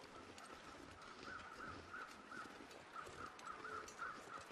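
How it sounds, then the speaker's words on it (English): Crows caw repeatedly in The Long Dark, a run of evenly spaced calls that sound distant and faint over a soft wind-like ambient background. "Those weather crows or actual like deathbird crows?"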